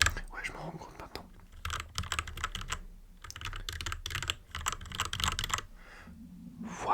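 Close, soft clatter of typing on a compact portable computer keyboard that makes a metallic noise, coming in several quick flurries of keystrokes separated by brief pauses.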